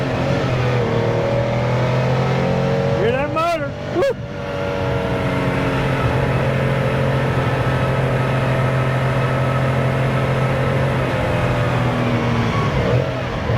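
A fully restored 1970 Porsche 914-6 drives with its engine droning loudly and steadily, briefly revving up and dropping in quick sweeps early on before settling back into a steady cruise.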